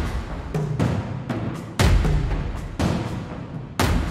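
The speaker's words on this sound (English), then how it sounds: "you do still have some percussion loops here that are a little heavier and a little more upfront" Heavy booming drum hits land every second or so over a dense rumbling bed, loud and upfront like a cinematic percussion loop.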